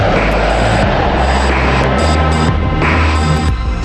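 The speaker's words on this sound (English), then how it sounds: "When the B-2 makes its maiden flight on July 17, 1989, it flies every bit as good as it looks." A B-2 stealth bomber flies past with a loud, steady, throbbing engine drone and a deep low hum that fills the whole stretch.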